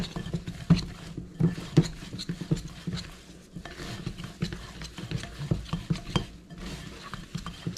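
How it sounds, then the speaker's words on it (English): A spoon stirs sticky gluten-free biscuit dough vigorously in a bowl, making uneven rapid scrapes and knocks against the bowl's sides. The sound is close and continuous, with brief louder clacks throughout. "And then I'm going to stir this like crazy."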